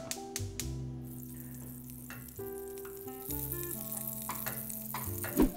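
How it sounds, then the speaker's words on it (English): Bread toasts in a pan with melted butter, making a quiet, steady sizzle with occasional soft taps under low tonal background sounds. "I like to toast my bread in the pan because I like that little crispiness that you get from some melted butter in the pan with your bread"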